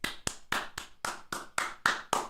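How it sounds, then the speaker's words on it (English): About nine crisp, close handclaps in a steady, slightly quickening rhythm, loud and alone, during a live day-trading stream. "Round of applause for everyone."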